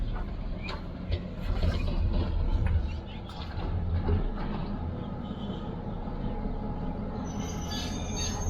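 A train pulls into Ella railway station in the Sri Lankan highlands, wheels squealing and carriages rumbling at moderate distance as it slows, with a steady rolling din throughout.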